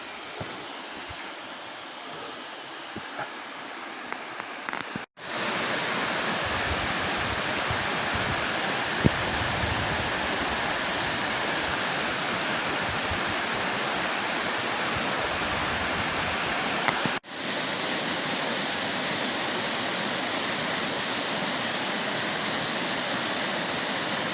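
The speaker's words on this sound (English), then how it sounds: "Okay, so this is part of the waterfall." Gorman Falls, a wide and low waterfall, roars in a steady dense rush of water. It starts out quieter and then swells to a full, unbroken wash, with no voices over it.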